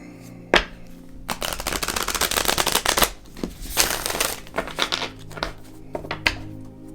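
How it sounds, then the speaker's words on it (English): Tarot cards being shuffled by hand, a quick burst of riffling and flicking with a few sharp snaps, close and fairly quiet, coming in uneven bursts. "let's pull a few tarot cards for you"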